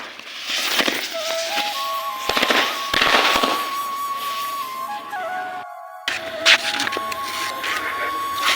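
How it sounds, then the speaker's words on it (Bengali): Firecrackers burst in a school field with scattered sharp cracks between stretches of thin whistling tones, while faint voices sound in the background. "তো স্কুল ঘরের সাথে আমরা গেলাম মাঠে বাজি ফাটাতে।"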